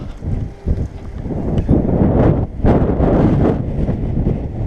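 Strong, warm tailwind roars and buffets the microphone in heavy, uneven gusts during a road-bike ride near Baikivtsi, Ternopil, with no other sounds standing out.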